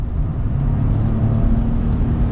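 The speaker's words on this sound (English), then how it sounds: "I'm super impressed with the acceleration on this one." Ford F-150 accelerating hard on the highway, a steady loud low engine drone and road rumble heard from inside the cab, without talk.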